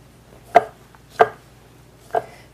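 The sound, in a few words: knife chopping berries on a cutting board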